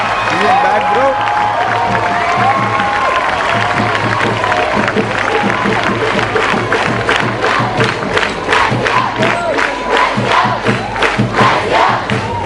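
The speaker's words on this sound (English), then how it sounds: "You can hear the crowd going wild" Studio crowd at a debate grand finale cheering wildly, a dense roar of shouting, whooping and clapping that stays loud and close throughout.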